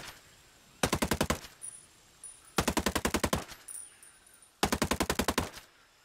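Tavor assault rifle fire in the video game Ghost Recon Breakpoint comes in three sharp full-auto bursts of about ten rapid shots each, separated by short pauses, loud and close, with no talking.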